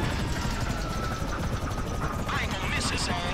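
Attack helicopters in GTA V roar steadily during a chaotic gunfight, their loud rotor and engine noise filling the scene continuously, with a voice talking over it.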